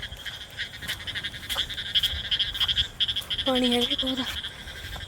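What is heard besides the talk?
frogs croaking in flooded rice paddy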